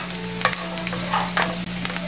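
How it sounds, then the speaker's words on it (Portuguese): Dried beef strips and onion sizzle steadily in a pan, with stirring scrapes and small crackles over a constant low hum, close and with no talking. "Vou deixar fritando aí e já volto com vocês."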